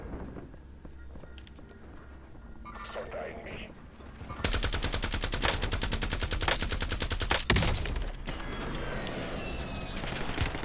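Rapid automatic gunfire in the video game Call of Duty Warzone, a dense stream of loud shots lasting several seconds after quieter game sounds and footsteps, with a player talking.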